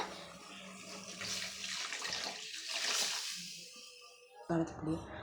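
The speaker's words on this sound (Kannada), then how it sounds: "ಒಂದಷ್ಟು 500 ml ನೀರು ಹಾಕೊಳ್ಳೋಣ." Water, 500 ml, poured into a pot of tomato curry, a steady splashing stream that gives way to quieter bubbling before a voice speaks at the end.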